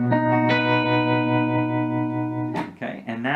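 Electric guitar with effects holds a sustained, rich distorted note for over two seconds, then quick hammer-on and pull-off notes tumble out near the end, close and loud.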